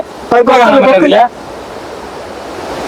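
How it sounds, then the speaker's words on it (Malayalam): Broadband roar of Palaruvi waterfall in Kollam, a steady wash of falling water underneath; a voice speaks briefly near the start, then the rushing noise carries on alone. "നമ്മൾ പാലാരുവിയുടെ വെള്ളച്ചാട്ടത്തിന്റെ സമീപത്തേക്ക് എത്തിക്കൊണ്ടിരിക്കുന്നു"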